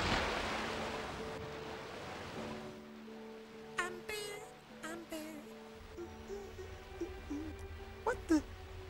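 A cartoon waterfall rushes with a soft, broad splashing hiss at the start, then fades and gives way to voices talking over a quiet background.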